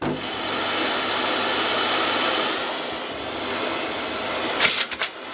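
An AEG Ultraone AU08870 vacuum cleaner runs below full revs, a steady whining motor drone with an airy hiss that dips slightly midway, then a few short bumps or clicks near the end.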